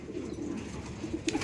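Low, warbling coos from racing pigeons back after release, near and moderately loud, with a few soft repeated notes toward the end.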